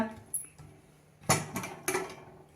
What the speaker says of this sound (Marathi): झाकण उघडून बघूया